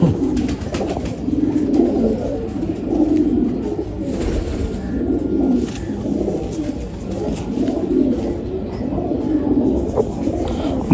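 Pigeons coo steadily in a loft of flying breed birds, a low rhythmic warbling chorus that swells and repeats throughout at close range, with no talking.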